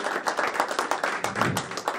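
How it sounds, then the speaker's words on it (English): A small group at a boxing press conference gives a round of applause, sparse uneven claps in quick succession over a couple of seconds, fairly near and moderate in level. "Round of applause for Jay."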